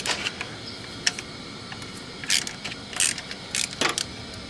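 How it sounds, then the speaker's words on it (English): A wrench works on a 10mm bolt holding a power steering line to the valve cover of a VW Audi engine, with scattered close ratchet clicks and short metallic rattles in quiet surroundings. "Next we remove this 10mm bolt that's holding this power steering line in place."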